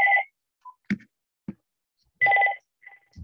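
A mobile phone rings during a recorded talk on Chinese Australian history, giving two loud bursts of a two-tone electronic ring separated by silence, with a few short clicks and knocks between them.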